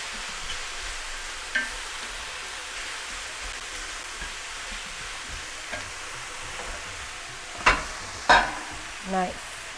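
Mushrooms fry with a soft, steady sizzle in a pan for a kale wrap with a teriyaki-style flavor, and a few louder clinks and stirring knocks come near the end.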